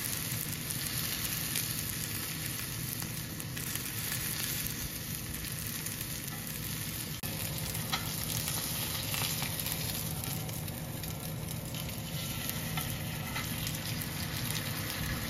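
Lao-style steak searing in a hot pan, a steady close sizzle and frying hiss running unbroken throughout with no talk over it.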